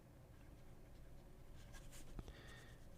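Quiet scratching of a Lamy 2000 fountain pen nib across paper, soft close strokes with small clicks and taps, faint and alone.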